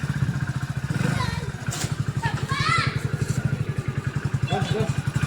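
A motorcycle engine starts and runs with a steady, close chugging idle throughout, while voices, including a child's, talk over it.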